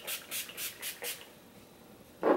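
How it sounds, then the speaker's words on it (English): A spray bottle pumped in about five quick hissing bursts at an even pace, then quiet before a short thud near the end. "Let's just finish it with a spray."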